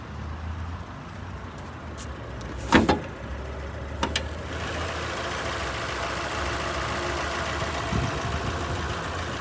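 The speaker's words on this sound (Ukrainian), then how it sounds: "Пробуємо завести двигун. Заводиться чітко працює рівно, тихенько." Clicks and a brief mechanical whirr, then the engine of a 2004 Daewoo Lanos turns over, catches and settles into a smooth, quiet idle that continues steadily.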